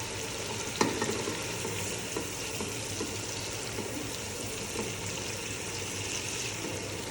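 Skinned snakehead fish is sautéed in a spice paste, giving a steady close sizzle with soft stirring scrapes and one sharp knock near the start, and no talk.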